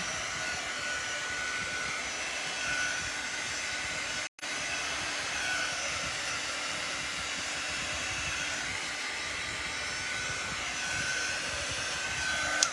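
A hair dryer blows steadily at close range to dry ink on small paper gift tags, its continuous whooshing roar broken once by a brief cutoff before resuming.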